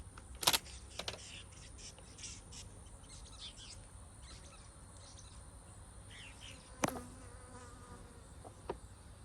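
Honey bees hum around an open beehive during apiary work, a faint steady drone with a few sharp knocks and clicks from handling the hive.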